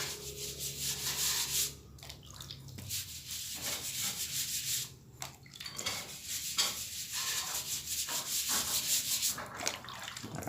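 A trowel smooths a wet cement skim coat across a wall, making continuous rough scraping and rubbing strokes in an uneven rhythm, close and fairly loud with brief pauses between passes.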